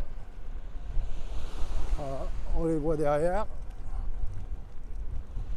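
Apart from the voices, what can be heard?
strong wind on the coast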